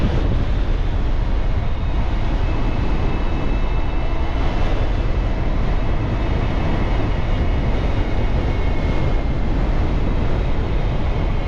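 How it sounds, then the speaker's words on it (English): Loud, continuous roaring rumble, like strong wind buffeting a microphone outdoors, steady throughout with no voices. "it is so windy."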